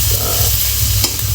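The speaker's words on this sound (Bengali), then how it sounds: "আর এখন আমরা হচ্ছে বেরেস্তা বানাচ্ছি" Sliced onions fry for beresta in a pan, a steady loud sizzle with stirring rustles running throughout.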